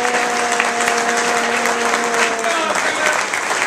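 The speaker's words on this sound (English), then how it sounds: "How about one more round of applause for our stars tonight?" An audience applauds children after their holiday singing performance, a steady, dense wash of clapping from a crowd that fills the whole stretch, with a faint sustained musical tone underneath.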